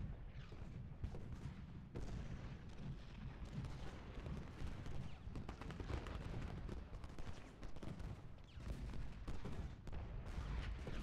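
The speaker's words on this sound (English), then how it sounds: "Lockwood's getting shot to pieces by enemy artillery" Cannon fire in the Civil War strategy game Ultimate General: Gettysburg, a continuous low rumble of distant artillery and musketry with repeated booms and crackling volleys, fairly faint.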